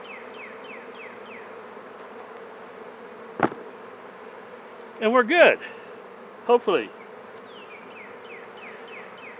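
Bees buzz faintly and steadily around hives being moved, a thin continuous hum, while a person speaks briefly and a few loud thumps and rustles break in nearby.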